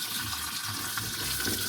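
Water splashes and trickles in a steady, close stream as it is poured into a basin or bucket, fairly soft and uninterrupted with no talking.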